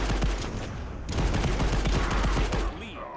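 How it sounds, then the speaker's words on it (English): Dense bursts of rapid gunfire in the Blitz Brigade shooter game, many shots fired in quick succession, loud and continuous before tapering off near the end. "Wow, I didn't count, but that was quite a few shots."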